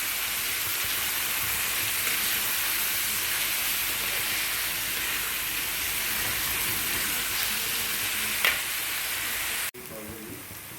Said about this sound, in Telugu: ఇలా ఉల్లిపాయ వేగేటప్పుడు ఏం చేస్తారంటే గుడ్లో గిన్నెలో కొట్టుంచుకోండి